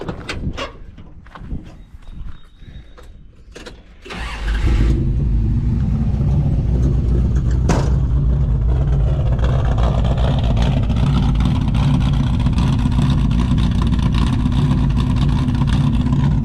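Clicking and whirring of a starter, then a big truck engine with a Hughes Whiplash performance cam catches and settles into a loud, lumpy, rumbling idle with uneven choppy pulses, close by.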